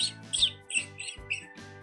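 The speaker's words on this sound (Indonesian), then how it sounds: "Pasti burung ini jatuh dari sarangnya." A small bird that has fallen from its nest squawks in short, sharp, high chirps repeated several times in quick succession, close and fairly loud with no talk.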